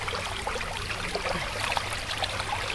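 A small stream of running water in the outdoors, a steady close trickle and gurgle with light splashes that runs on continuously without pause.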